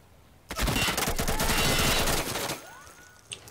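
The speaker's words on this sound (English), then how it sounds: "A lot of gunfire coming back over to Meowthis as soon as he pokes out." A sustained burst of rapid automatic gunfire in a competitive video game match at a World Cup elimination, loud and dense for about two seconds, then trailing off into quieter shots and a whistling sweep.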